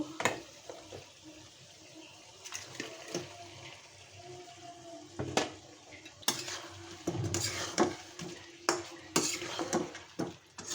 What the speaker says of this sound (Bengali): আমি এখন মাছগুলো দিয়ে দিব